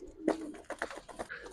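Giribaz pigeons cooing in a loft, several short throaty coos in quick succession, close and clear, no talking.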